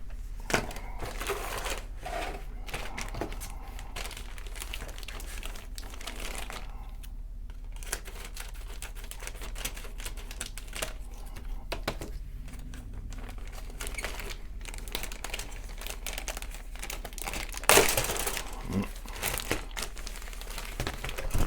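Plastic bags holding the parts of an Italeri 1/72 F/A-18E Super Hornet model kit crinkle and rustle as they are handled, a close, fairly quiet, irregular crackling that comes in busier bursts, with a sharper crunch near the end.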